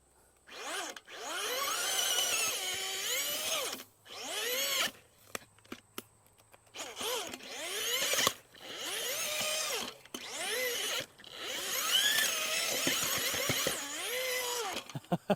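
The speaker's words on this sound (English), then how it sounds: "The E-clutch stops it because this drill is so strong, I mean, it will just spin you around." A strong power drill with an electronic clutch bores into garden soil, whining and squealing in repeated bursts with brief stops where it snags on roots, close and loud throughout.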